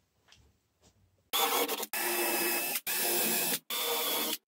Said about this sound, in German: Und diese vier Markierungen, die bohren wir jetzt schnell ein.